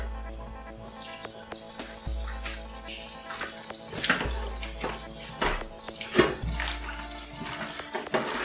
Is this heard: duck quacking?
no